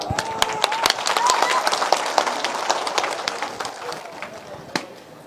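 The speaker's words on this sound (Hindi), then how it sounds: "आपकी ताली की आवाज से।" Crowd applause at a political rally at Gandhi Maidan, sharp scattered hand claps over a steady crowd clatter with brief voice in the background.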